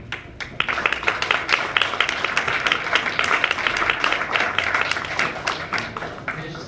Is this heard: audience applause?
yes